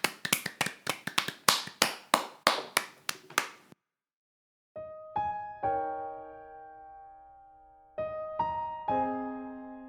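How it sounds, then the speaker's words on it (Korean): About a dozen sharp, close hand claps in a quick, uneven burst close a Korean talk podcast, followed by a short silence and then bright, sustained chime-like tones ringing alone. "진짜로 박수 치도록 해요."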